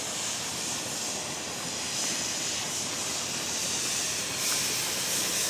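A steady, broadband hiss of steam from a canning pot processing albacore tuna, continuous and fairly faint, holding the same level throughout with no voices.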